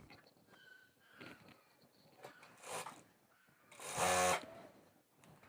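Sewing machine stitching a palazzo pajama, its motor whirring in short bursts with a longer, louder run of rapid stitching near the end, close by and without speech.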